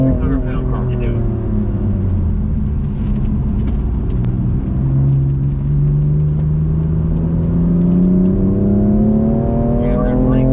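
A BMW on a race track, engine droning steadily near and loud, pitch sweeping up and down as it accelerates and lifts through corners, with an instructor talking over it throughout.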